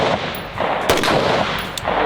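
A rifle fired from the Weaver stance, heard as a few sharp, loud cracks in quick succession, each with a short ringing tail, at close range.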